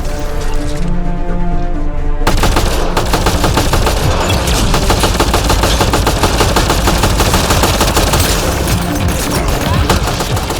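Sustained rapid gunfire fills the Mass Effect: Andromeda firefight at an outlaw camp, loud and close, with dense automatic bursts and crackling impacts running almost without pause after a brief quieter lead-in.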